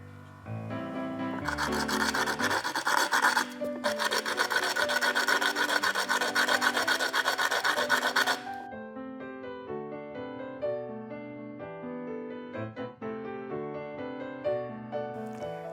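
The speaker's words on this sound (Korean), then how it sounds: "키트 속에 있는 사포를 이용해서 씨앗의 끝부분을 갈아 씨앗이 싹이 틀 수 있도록 도와줄게요" Rapid, rhythmic scratchy rasping of sandpaper filing the tip of a lotus seed for several seconds, then stopping, with gentle background music playing throughout.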